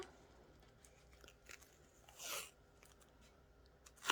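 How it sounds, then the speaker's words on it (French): A brief rasping rip of tape being pulled off a surface, with a few small crackles around it in a quiet room. "Je vais enlever le scotch."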